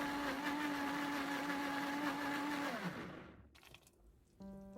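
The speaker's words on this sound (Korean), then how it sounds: "물을 250ml 정도 더 추가해 주시고 잘 갈아주세요" A blender whirs steadily, grinding sweet potato with water and nuts, its motor holding a steady pitch for about three seconds before winding down, followed by quieter clatter and a short beeping tone.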